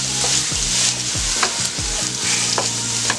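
Shrimp and andouille sausage fry and sizzle steadily in a pan for Cajun pasta, a constant loud crackle with a few stirring scrapes and low knocks, no voices.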